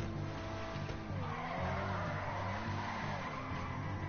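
A Lamborghini 4x4 skids in a driving video game, its engine droning with sustained tire squeal and sliding noise, steady and fairly loud throughout with no talk.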